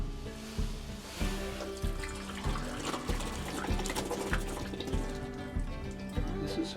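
Homemade maple syrup, boiled down in a back yard, pours in a thin liquid stream with soft splashing and a rhythm of small pulses and drips, fairly quiet and close with no talking.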